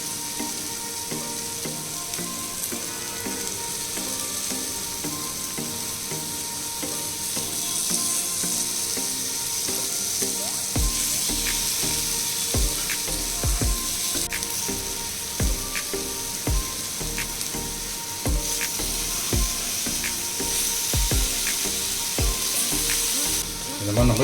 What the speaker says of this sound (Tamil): திரும்ப ஆயில் விட்டு இதே மாதிரி ஃப்ரை பண்ணி நம்ம எடுத்துக்கலாம்